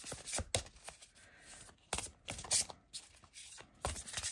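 A tarot deck is shuffled by hand, giving a run of soft, close riffling bursts and card slaps in irregular bursts across a few seconds, with quiet pauses between.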